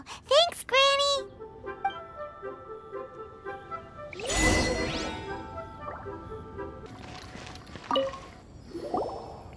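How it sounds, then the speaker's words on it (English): A cleansing bell rings in Genshin Impact with bright, layered chiming tones at the start, followed by a louder crash-like swell and scattered softer game effects and chimes. "Indeed, this is the cleansing bell."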